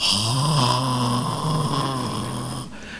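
A preacher imitates a wife's snoring with his voice, a loud, rough, rasping snore that sustains for nearly three seconds before cutting off abruptly.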